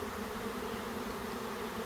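A swarm of honey bees fills the air around empty hive boxes with a steady, continuous buzzing hum, dense and unbroken throughout.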